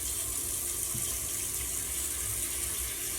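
Tap water pours steadily into a cooking pot for a seafood boil, a constant hissing splash at moderate volume with no speech over it.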